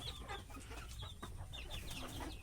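Native chickens on a small farm cluck and chirp in short, quiet bursts, several birds overlapping at a moderate distance with no talk.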